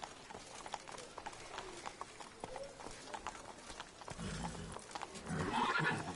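Roach, a horse in The Witcher 3, clip-clops along at a quick pace with rhythmic hoofbeats and a short whinny. Heavier rumbling hoof noise swells near the end.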